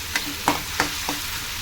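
Ingredients for brinjal chutney fry in a pan, with a soft continuous sizzle and four quick spatula scrapes at an even pace.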